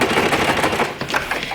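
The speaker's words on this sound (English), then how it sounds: "I got the old sewing machine out" Sewing machine stitching along three sides of a fabric square, a dense, steady rapid rattle of needle strokes close by, running continuously with only a brief dip partway through.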